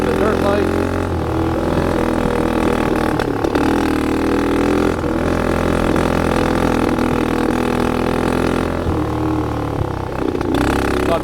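A dirt bike engine runs in cold snowy conditions, loud and close, holding a steady drone with shifting revs and a few sharp pops that could be backfires.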